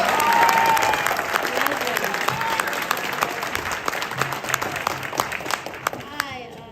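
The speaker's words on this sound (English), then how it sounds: "Brandon, round of applause for Brandon." Audience applause at a congressional town hall in Corona, Queens, loud at first and gradually thinning into scattered claps before the room quiets.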